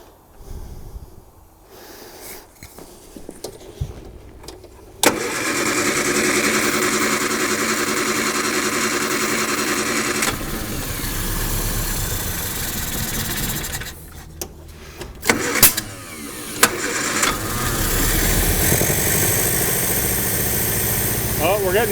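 A 1955 Metropolitan barn-find car engine cranks and catches, then settles into a loud, steady idle; the running engine fills most of the clip, with a couple of brief dips and restarts midway.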